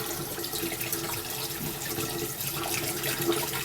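Tap water running into a pot of meat for broth, a steady splashing, gurgling rush heard up close without pause and no voices.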